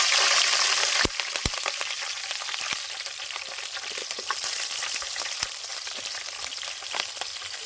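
Green chilies crackle and fry in hot oil in a pan for South Indian sambar, a steady close sizzle with sharp pops scattered throughout, loudest at the start and no one talking.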